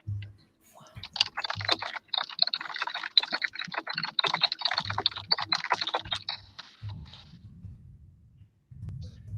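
Rapid clicking of fingers typing on a computer keyboard, close and steady for most of the stretch, with brief pauses and a low hum between bursts.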